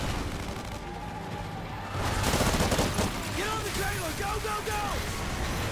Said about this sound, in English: They're shooting me up the butt.